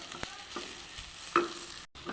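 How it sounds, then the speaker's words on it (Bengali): Pointed gourd, chillies, garlic and onion are stirred in a frying pan, with a few separate scraping strokes and a quiet sizzle underneath, ending in a brief drop to silence. "এবার পটল আর দুটো লঙ্কা ভাজা সব দিয়ে দিচ্ছি, একটু নাড়িয়ে নেব"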